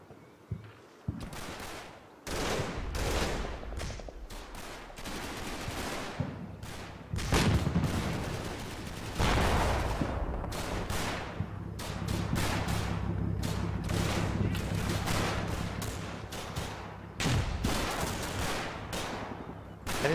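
Machine gun bursts and combat gunfire in the WWII Normandy wargame Combat Mission, a farmhouse battle: rapid staccato volleys and sharp booms, loud and near, rolling on and off throughout with brief pauses between bursts.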